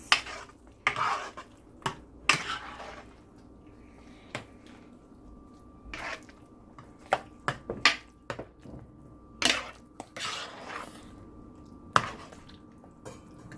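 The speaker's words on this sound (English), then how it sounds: "Adding cilantro, and we're gonna mix." Pav bhaji being mixed with cilantro in a pan, heard as irregular metal scrapes and clinks of a utensil against cookware, with soft squishy stirring between the sharper knocks, close and moderately loud, no talk.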